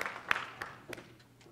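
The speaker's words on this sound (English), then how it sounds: "Now give God a hand clap and stand to your feet, everybody." A church congregation claps hands at the close of a sermon, a few sparse, distinct claps spaced apart, fairly faint and echoing in the hall.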